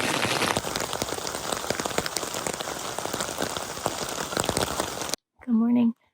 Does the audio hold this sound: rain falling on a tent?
yes